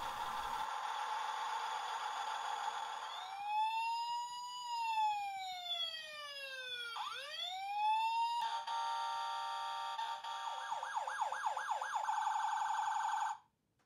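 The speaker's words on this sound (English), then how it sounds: "pushes the buttons for the sirens and lights" Toy Tonka ambulance sounding its electronic sirens, cycling through several patterns: a steady tone, sweeping wails, rapid yelps and a warbling hi-lo, loud and close, running continuously without any voices.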